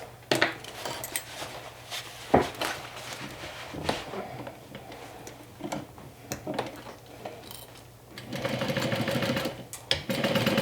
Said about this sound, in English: So we'll stitch it down with 1/4 inch seam allowance.